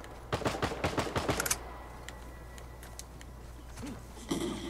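A grenade launcher fires in Uncharted 4, a rapid run of sharp shots near the start that breaks off, then scattered faint impacts and a muffled burst near the end.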